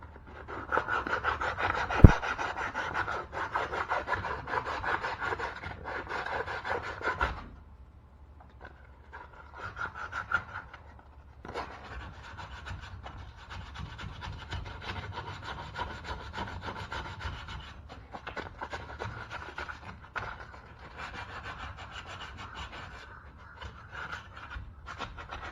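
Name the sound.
sanding wooden crankbait lure with 150 grit sandpaper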